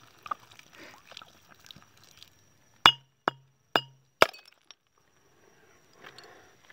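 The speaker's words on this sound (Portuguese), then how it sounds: "Quebrei a garrafa, vim cortar isso aqui." A glass bottle is struck and broken outdoors at a roadside ritual offering site in Guajará-Mirim, Rondônia: four sharp ringing glass cracks in quick succession, preceded by soft rustling and faint voices.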